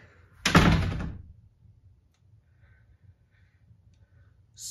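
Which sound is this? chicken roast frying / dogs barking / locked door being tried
locked door being tried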